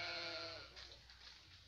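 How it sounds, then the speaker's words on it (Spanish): Sheep bleat on a farm in El Salvador, a loud drawn-out call at the start that fades into softer, rougher bleats and outdoor ambience, with no talking. "Ovejas también, no sé."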